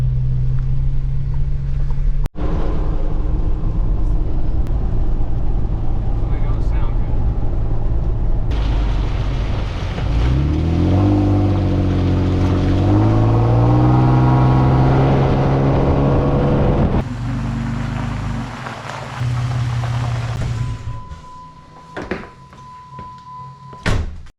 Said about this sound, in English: Broke something in the front end. It's clicking, making a lot of noise.